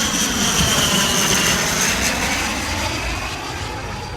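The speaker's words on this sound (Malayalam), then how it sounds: "ആ പോയത് ചെറിയൊരു ഫ്ലൈറ്റ് ആയിരുന്നു, ഇപ്പോൾ ഇതാ വരുന്നു വലിയൊരു ഫ്ലൈറ്റ്" A large aircraft passes overhead with a loud, steady engine roar filling every moment, easing slightly toward the end and heard without voices.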